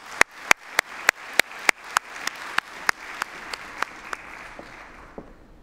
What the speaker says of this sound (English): let's give him a big round of applause and welcome him on the stage